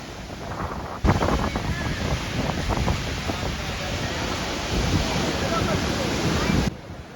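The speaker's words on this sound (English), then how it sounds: "to escape the strong wind and the sea water splashing onto my face and mobile phone" Strong seaside wind buffeting the microphone as high-tide waves surge against tetrapods and a seawall on the Bandra promenade, a loud continuous roar and wash that begins abruptly and stops near the end.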